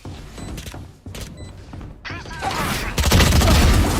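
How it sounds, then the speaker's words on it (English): A swarm grenade bursting in Valorant: a short burst of crackling, fizzing impacts that swells into a loud, dense blast toward the end. "Placing swarm grenade."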